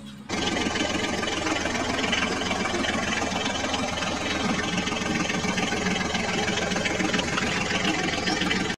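A continuous, loud, buzzing engine drone from a toy Eicher tractor during play starts abruptly and runs steadily at close range without pause or talk.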